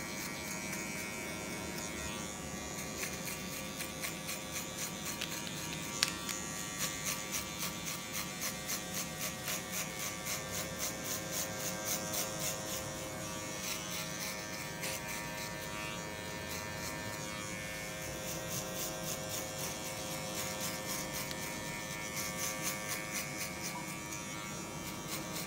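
Electric hair clippers run with a steady, close buzz while a barber shapes the sides of a modern classic men's haircut into a rounded oval, holding a constant drone with no talking.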